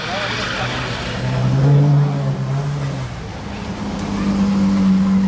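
A Bugatti Divo supercar fitted with Novitec wheels revs its engine on a Monaco street, a loud sustained drone rising and falling over about five seconds, with people talking nearby.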